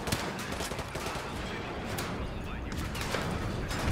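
Rapid bursts of gunfire from the Modern Warfare 2 Remastered campaign mission Whiskey Hotel crackle steadily throughout, a dense dense barrage of shots mixed with battlefield noise.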